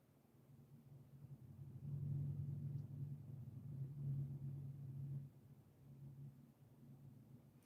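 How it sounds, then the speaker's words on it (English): Distant thunder during rain, a low rolling rumble that swells for several seconds, eases and returns more faintly, with no voices over it. "I don't know if you guys can hear that thunder."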